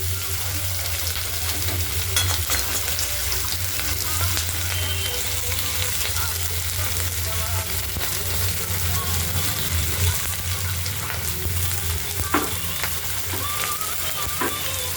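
Spices, onion and garlic frying for a fish curry in a pan, a steady close sizzle with occasional stirring scrapes, loud and continuous without talk.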